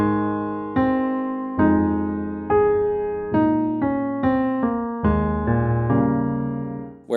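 A piano plays a Christmas melody exactly as written on a lead sheet, about eight evenly spaced struck notes or chords, each decaying before the next, clear and close with no talking.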